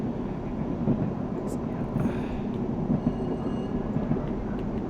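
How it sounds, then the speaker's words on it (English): Steady rumble of a Class 127 diesel railcar interior in motion in a train simulator game, with a low rolling drone and faint clatter throughout, no clear talk. "Listen to that passenger ambience."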